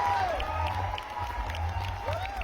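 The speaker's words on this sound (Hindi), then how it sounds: "आप सभी की जोरदार तालियां हो जाए" A college audience at a live student parliament roast session applauds and cheers, a steady wash of clapping mixed with whoops and shouts at moderate loudness.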